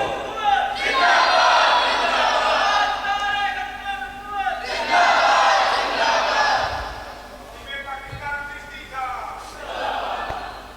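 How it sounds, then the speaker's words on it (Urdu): A large gathering at a Mehfil-e-Milad religious event chants the Labbaik slogan together in loud, repeated swells, with several rising group shouts separated by brief lulls. "جن دے ہاتھ ہے نے ایک باری چکو تے لبیک دا نعرہ لاؤ، لبیک لبیک لبیک۔"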